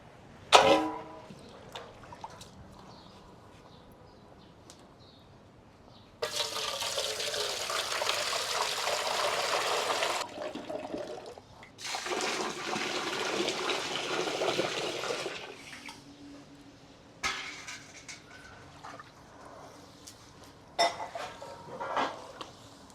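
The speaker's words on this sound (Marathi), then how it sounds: "हे पाणी आपण काढून टाकू आणि परत दुसरं पाणी टाकून घेऊ" Water pours and splashes into a container in several long gushes separated by quieter moments with faint clinks and movement, as finger millet is washed.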